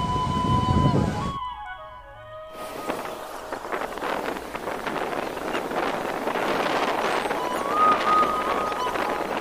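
Sea waves roar on the beach at Puri, a steady broadband wash of surf mixed with gusty wind buffeting the microphone. A brief tonal sound is heard near the start.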